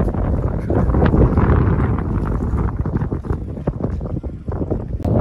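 Boat on the Red Sea off Saudi Arabia, a continuous loud engine drone with water rushing along the hull and heavy wind buffeting close to the microphone.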